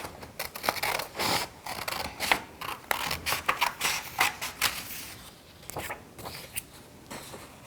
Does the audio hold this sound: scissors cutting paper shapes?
yes